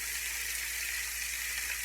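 Oxtail pieces sizzle and fry in a pan, a steady dense crackling hiss close by, continuous and unbroken throughout.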